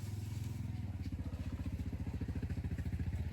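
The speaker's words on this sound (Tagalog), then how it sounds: "Medyo maingay kasi may motor." A motorcycle engine runs close by with a steady, rapid low throb that thickens after the first second, loud and continuous throughout.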